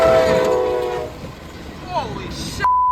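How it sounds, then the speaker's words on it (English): Train horn blaring loudly at first with rumbling rail noise beneath, fading into a brief lull, then a short squealing sweep and a final burst before cutting off abruptly; a train striking a septic tank truck. "A damn train hit a septic tank truck, and shit everywhere."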